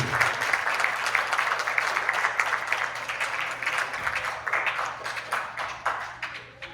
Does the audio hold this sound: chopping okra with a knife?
no